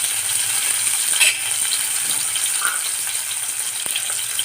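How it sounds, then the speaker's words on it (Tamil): Onions and tomatoes frying in oil for a wedding-style potato masala, a steady close sizzle with a brief louder stir or splash partway through, with no voices over it. "தக்காளியும் வெங்காயமும் நல்லா வதங்கட்டும்."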